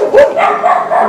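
A dog barks loudly and close by in a Dominican drama series. It gives several sharp barks in quick succession, with a whiny, yipping edge, and no one speaks over them.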